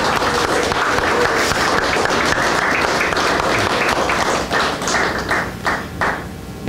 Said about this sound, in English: Let's give God a round of applause